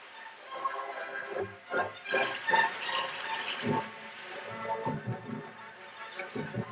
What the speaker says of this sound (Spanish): el líquido elemento fluye y salta por los barrancos en cascada